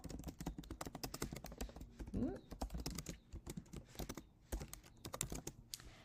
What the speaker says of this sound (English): we'll go ahead and type in the event title